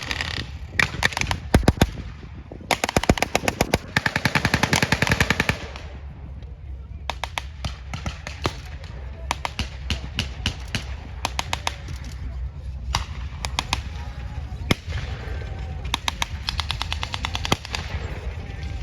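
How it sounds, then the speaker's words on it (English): Blank machine-gun fire comes from a WW2 armoured vehicle carrying .30 and .50 calibre guns at a reenactment: rapid loud bursts of sharp cracks, then scattered shots and shorter volleys echoing outdoors, with occasional voices. "It has a 30 caliber machine gun and a coaxial mount that can turn around, and it also has a 50 cal."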